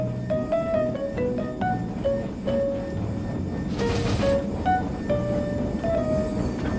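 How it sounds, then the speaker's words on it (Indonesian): A Thomas toy locomotive runs along its track with a steady rolling rattle, over a run of short bright tonal chimes or melody notes and a brief burst of hiss midway. "ini adalah lokomotif Thomas"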